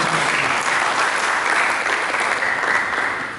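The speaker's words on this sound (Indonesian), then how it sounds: "Mari kita berikan tepuk tangan bagi Yesus." Church congregation applauding during a sermon, a loud, even burst of many hands clapping that holds steady before tapering slightly at the end.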